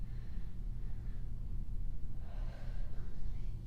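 A deep breath during a workout cool-down: a slow, close inhale-exhale over a steady low background hum, with a second breath swelling near the end and no talk.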